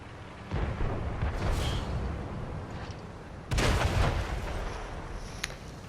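Tank gunfire in World of Tanks console: two heavy booming cannon shots, one near the start and a louder one midway, each a broad blast with a rumbling tail over continuous battle noise, no talk.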